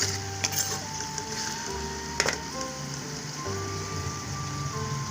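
Onions with salt frying in a pan, a steady close sizzle running throughout with a few scraping stirs and a constant hum beneath.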